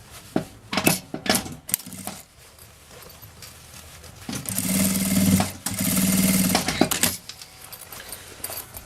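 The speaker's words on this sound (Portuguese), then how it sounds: "a gente também passa aquela costurinha rebatendo" Sewing machine topstitching a child's mini backpack, two bursts of steady motor whirring, each a couple of seconds long, set among sharp clicks and handling knocks from the fabric and machine, close up with no talking.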